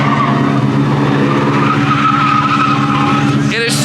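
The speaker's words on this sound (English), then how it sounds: "It is so awkward to hear no noise but tires squealing coming from that thing." An electric all-wheel-drive car at an automotive convention, its tires squealing loudly and continuously for several seconds without engine noise, close by.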